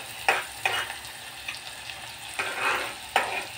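Chopped onion and garlic sizzle in hot oil for a brinjal and potato curry, with several distinct scraping stirs of a spoon against the pan over a steady low frying hiss and no voices.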